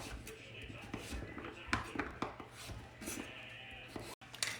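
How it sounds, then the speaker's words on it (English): Butternut squash is chopped into chunks on a cutting board, faint irregular knife taps and thuds sounding softly in a kitchen while a person talks over them. "So you just keep chopping away here and get them in chunks"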